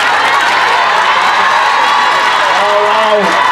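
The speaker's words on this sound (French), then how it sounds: "Beaucoup d'applaudissements." Crowd applause and cheering fill a lively honorary reception celebration, a continuous dense wash of clapping with whoops and voices throughout, steady and fairly loud.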